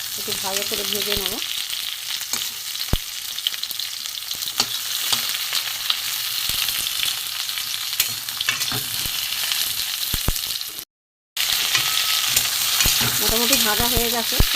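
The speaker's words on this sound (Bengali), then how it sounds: "একটু ভালো করে ভেজে নেব।" Potol, pointed gourd, fries in mustard oil with a sustained, close sizzling hiss and scattered utensil taps, briefly cut to silence near the end, with a voice speaking at the start and close.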